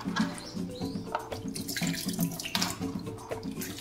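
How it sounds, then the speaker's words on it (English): Sweet potatoes and plantains being washed under a running kitchen tap, a steady close rush of water with irregular splashing and clatter as the produce is handled, continuing throughout without speech. "So that's why I decided to wash them."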